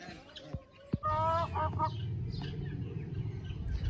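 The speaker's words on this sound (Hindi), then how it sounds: "मुर्गा हमारा आवाज़ें दे रहा है मेरे पास आकर" A rooster, kept as a pet, calls in a few short crows and clucks close by, with a steady low hum and faint background noise underneath.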